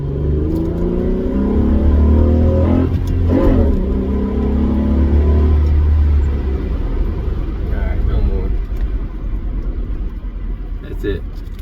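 Acura CL Type S accelerating hard during a ride along, with torque steer and tires breaking loose; a loud, steady engine drone that rises and falls over most of the clip, with voices talking over it.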